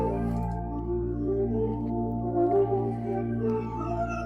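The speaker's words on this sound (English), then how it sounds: "slow it down from 124 to 89 and just sound like this" Music sample slowed in FL Studio from 124 to 89 BPM, giving a late-night feel: a warm, continuous bed of layered sustained tones over a steady low end, with gently moving melodic lines and no voices.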